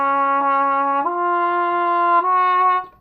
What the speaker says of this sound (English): A cup mute sounds like this.